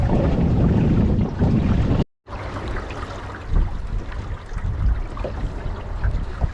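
A sailboat running under jib alone on a reach down toward Llangower, with steady broadband wind and water rush, loud and continuous apart from a brief dropout near two seconds.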